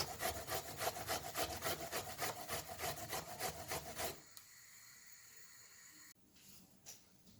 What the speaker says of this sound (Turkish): Kabaklarımızın hepsini rendemizin kalın dişli yeriyle rendeliyoruz.